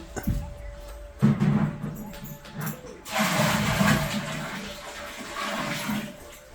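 Water poured slowly into a storage tank, gushing and splashing in uneven bursts with a stronger sustained pour in the second half, with people speaking nearby.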